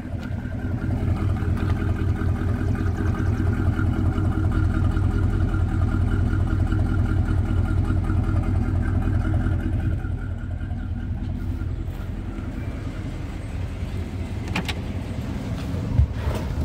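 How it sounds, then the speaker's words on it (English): A 1972 Chrysler New Yorker engine idles steadily with a low, even rumble throughout, heard from inside the car alongside a running air-conditioning fan, with a slight drop in level partway through. "Car idle's pretty good."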